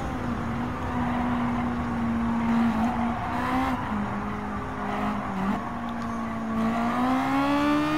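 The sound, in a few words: Honda Civic Type R engines racing in video game Gran Turismo 7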